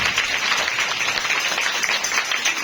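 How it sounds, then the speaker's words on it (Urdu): Congregation at a Sunday church service claps vigorously and steadily, a dense wash of applause from many hands filling the hall without pause. "پھر بھی زوردار تالیاں بجا دیجیے"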